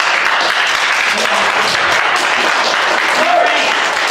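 A crowd applauds at a 2019 South Bend city council candidate forum, steady and loud, sustained clapping that fills the whole stretch without pause.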